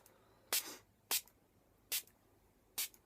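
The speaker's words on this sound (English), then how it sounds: "But I am going to spray it with my water." Water sprays onto a makeup sponge in four short, crisp hissing bursts from a spray bottle, spaced unevenly and close by against a quiet background.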